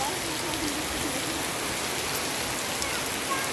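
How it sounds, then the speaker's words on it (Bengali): Heavy rain pours down in a dense, steady hiss of drops striking surfaces and umbrellas nearby, continuous and fairly loud with no talk over it. "এতটা বৃষ্টি হচ্ছে"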